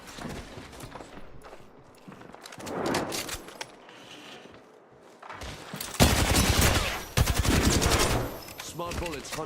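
Bursts of rapid automatic gunfire from smart bullets in an Apex Legends match, quieter stretches broken by loud sustained volleys toward the end, with faint speech mixed underneath.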